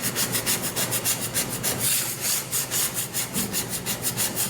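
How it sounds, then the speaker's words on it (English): A dough scraper scrapes debris off a porous stone, such as a pizza stone, in quick repeated rasping strokes with a steady rhythm, close and moderately loud, with no talking. "I'm using a dough scraper, and I'm just going to gently get some of this debris off."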